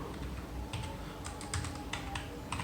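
Keys tapped on a Bluetooth keyboard paired with an Android phone, a handful of quiet, close clicks in short irregular bursts over a low background hum.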